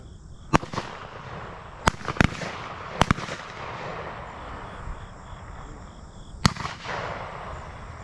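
Shotgun shots ring out at a dove hunt during a Georgia season opener: about six sharp, loud reports, some in quick doubles, scattered across the clip over a steady outdoor background, with no talk.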